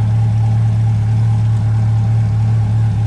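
A Chevrolet C8 Corvette with a warm engine idling, a steady low hum with an even, unbroken drone, close and fairly loud with no voices.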